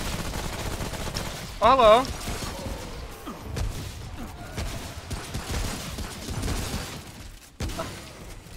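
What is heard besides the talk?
gunfire from the video game Remnant from the Ashes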